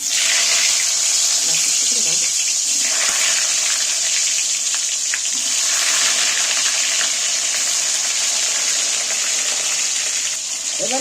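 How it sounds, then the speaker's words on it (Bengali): Whole pointed gourds coated in salt and turmeric frying in very hot oil, a continuous close sizzle and crackle that holds steady throughout, with occasional faint clinks beneath. "গোটা পটলগুলো যে নুন হলদু মাখানো আছে সেগুলো আমি তেলের মধ্যে তুলে দিচ্ছি"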